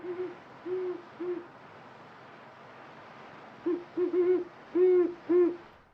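Deep, soft great horned owl hoots in short bursts, a few spaced calls then a quicker run of four or five, resonant and fairly close against quiet background.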